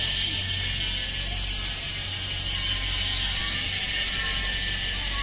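Freewheel ratchet of a Mountainpeak Rexton 8000 mountain bike clicking in a steady, continuous buzz, close and fairly loud with a hissy edge, no talking over it.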